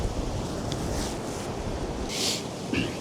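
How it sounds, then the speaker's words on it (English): Strong wind buffeting the microphone on the coast at St Mary's Lighthouse, with a low rumbling roar of surf beneath and a few brief hissing gusts. "lots of commotion, lots of wind"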